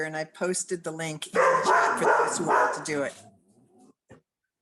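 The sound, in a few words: dog barking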